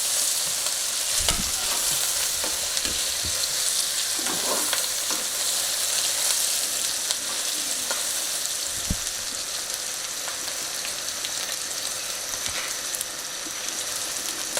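Ginger and garlic sizzle and fry in hot oil, browning in a pan for a cauliflower and potato curry; a steady close crackle with occasional stirring clinks, no voices.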